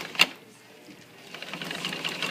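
Sewing machine back stitching at the top of a zipper, a brief sharp click followed by a quiet pause and then a faint, rising rapid stitching whir.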